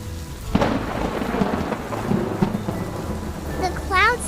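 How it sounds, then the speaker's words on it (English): Steady rain with rumbling thunder in a storm, a loud continuous wash with low rolls running throughout, and a brief chirping tone near the end. "The clouds get heavy and full. Then it rains."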